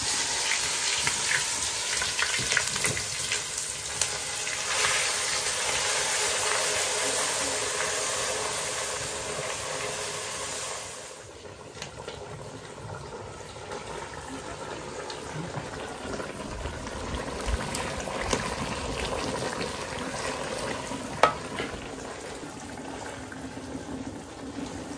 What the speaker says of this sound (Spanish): Le vamos a agregar una bolita de pasta a ver qué